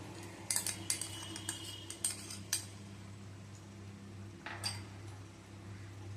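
A spoon scrapes and clinks against a pan while soya khichdi ingredients are mixed, several sharp metallic taps in irregular bursts over a low steady kitchen hum.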